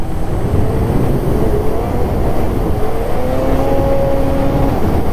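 A 2024 Ski-Doo XRS Comp Turbo with a 650 engine accelerating on light throttle in Vermont snow, a loud, close, smooth engine whine rising steadily in pitch over several seconds.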